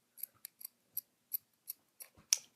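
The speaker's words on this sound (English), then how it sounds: "I'm trimming." Scissors snip fabric for a no-sew doll bathing suit in a series of about nine crisp, separate cuts spaced irregularly, close and fairly quiet, with no talking.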